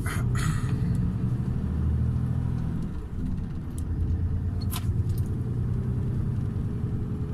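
A truck rolling along the road, heard from inside the cab as a deep steady engine rumble with road noise, a brief dip midway and a few light rattles or clicks on top, no talk.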